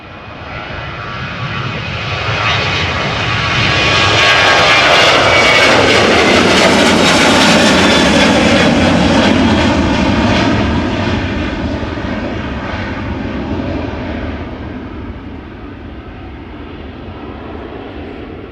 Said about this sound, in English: Transavia flight 5683 going to Lanzarote, Canary Islands, 737-800, 8 years old